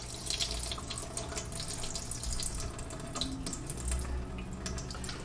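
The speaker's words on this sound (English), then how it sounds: "So let me go ahead and dump out that water." Rinse water from brine shrimp is poured out, a steady splashing trickle like a running tap that lasts throughout, close and moderately loud, with no voices.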